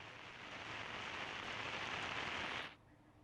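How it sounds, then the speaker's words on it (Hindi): Steady rain pours down at a landslide site where debris is being cleared and water is rising, a dense even hiss close by for most of the clip before it cuts off abruptly near the end. "बारिश हो रही है और देखिए पानी यहाँ भी बढ़ता जा रहा है"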